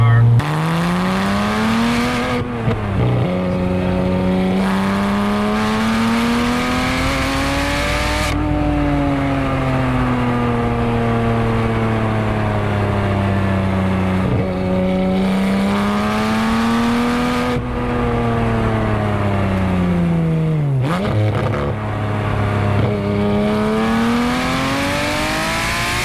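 Porsche 911R with a single-mass flywheel on a test drive, engine revving up and down through repeated gear changes, loud and close from inside the car, with a voice talking over it at times.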